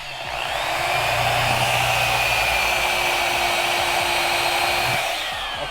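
A power tool with an eraser wheel whines at a loud, steady high pitch as it strips vinyl numbers from a boat hull, spinning up, holding for several seconds, then winding down.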